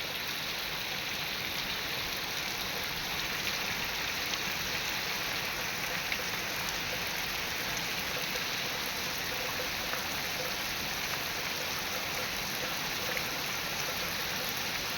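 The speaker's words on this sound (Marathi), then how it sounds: "तो वेचायच्या आधीच पाऊस आलेला आहे" Steady, dense rainfall pours down continuously over farmland during cotton harvest, a broad even hiss of heavy rain with no voices.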